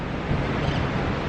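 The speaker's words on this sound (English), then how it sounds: "It's definitely windy" Steady broadband wind buffeting a microphone at Daytona Beach, with surf-like roar continuous and fairly loud across the whole stretch, no voices.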